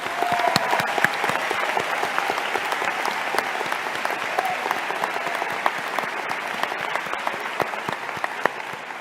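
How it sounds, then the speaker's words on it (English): Dense, sustained applause from a large audience at a university nursing white coat ceremony, with many hands clapping rapidly and steadily. It is loud and unbroken throughout, with no speech over it. "Please, one more round of applause for our future night nurses."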